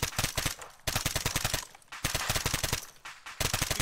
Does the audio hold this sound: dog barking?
no